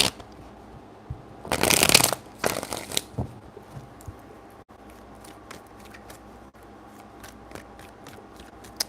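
Tarot cards being shuffled in two quick riffling bursts near the start, followed by quieter scattered clicks and faint handling noises.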